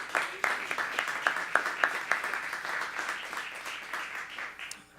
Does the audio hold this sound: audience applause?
yes